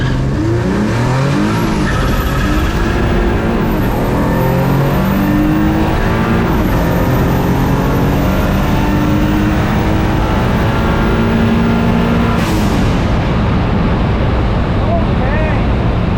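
A drag car running 25 psi of boost launches and pulls hard under full throttle with no-lift shifts, giving a loud, continuous, close engine roar that rises in pitch through the gears for the whole run.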